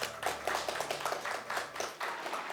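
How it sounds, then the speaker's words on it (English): Audience clapping at a wood sculpting ceremony, a steady patter of many hands filling the short stretch at moderate level, with a few sharper individual claps standing out and no talk over it. "Keep the applause going, ladies and gentlemen."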